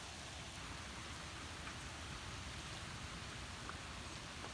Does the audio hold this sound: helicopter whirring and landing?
no